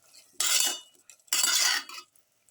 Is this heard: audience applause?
no